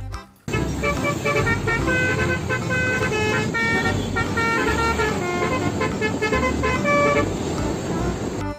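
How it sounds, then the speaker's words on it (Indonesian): A bus horn honks repeatedly in short bursts over a continuous engine rumble, loud and close, with brief pauses between toots. "Mobil bus."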